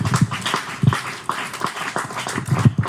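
A church congregation applauds during a sermon, with uneven clapping rising and falling and voices mixed in over it.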